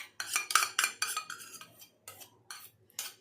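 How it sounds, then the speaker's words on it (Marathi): Curd being mixed into fasting idli batter in a bowl: a series of short scraping, clinking strokes of a spoon against the vessel, close and fairly quiet, in irregular bursts with brief pauses and no speech. "आणि याला छान मिक्स करून घेऊया"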